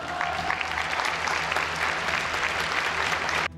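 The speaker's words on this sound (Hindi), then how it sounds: "जैसे ही पोप कार्यक्रम में पहुंचे तो लोगों ने तालियां बजाकर उनका स्वागत किया।" Crowd applauding as Pope Francis arrives at an event, a steady dense wash of clapping from many hands that runs unbroken for several seconds before stopping abruptly.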